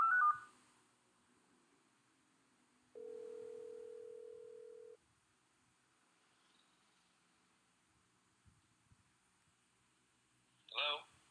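A telephone being dialed: a short burst of tones, then a steady two-second tone, a long quiet pause with faint clicks, and another brief tonal burst at the end.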